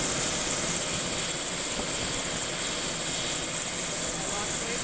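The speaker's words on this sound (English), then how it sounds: "I love helicopters." A helicopter drones steadily nearby during a rescue from Shadow Lake Lodge, a loud, continuous rotor and engine roar that never lets up.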